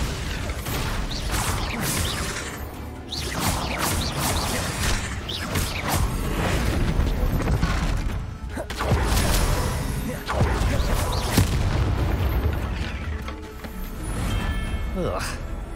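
Bombarda spell explosions in Hogwarts Legacy, loud repeated blasts and crashes with whooshing spell effects in dense combat noise, voices shouting between hits.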